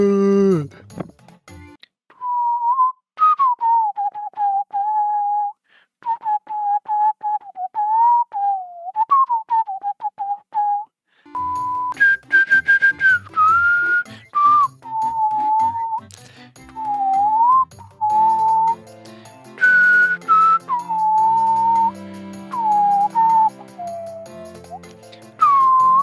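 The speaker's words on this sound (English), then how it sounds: "I'm tempted to add a bit of whistling as well." A person whistles a melodic tune in a clear, close tone, phrases rising and falling over about ten seconds, a brief pause, then more whistling over soft musical accompaniment.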